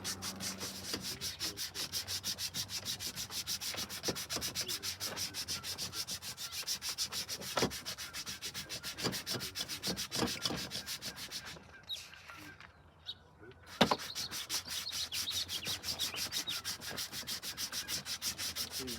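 Electrician's abrasive scuffs the insulation jacket of a medium voltage cable in a rapid, even back-and-forth rasp, close and continuous, with a short break near the end before the scrubbing resumes.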